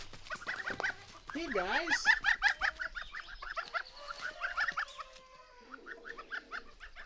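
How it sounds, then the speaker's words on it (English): Goslings on a Canadian homestead peep in quick, high repeated calls, clustered and close, while a voice briefly greets listeners over the chatter. "They're just goslings."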